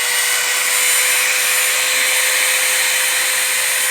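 A variable speed power tool runs steadily at roughly two-thirds speed, giving a continuous loud whine with a fixed high tone and no breaks, held close throughout.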